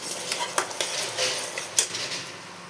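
A utensil scrapes and clinks against a pot while fried spice mix is stirred into tomato garlic chutney, irregular metallic taps and scrapes over a soft sizzle, close by.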